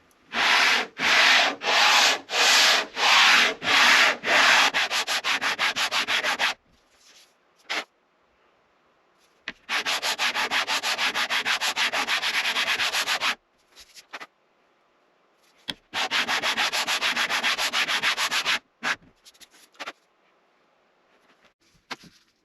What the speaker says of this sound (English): I love sanding, it's what I do.